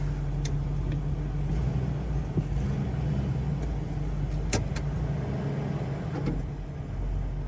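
A 2001 Ford F150 pickup with a 5.4 engine idles steadily after a cold start, a constant low rumble with a few faint clicks and knocks on top, close by and with no talking.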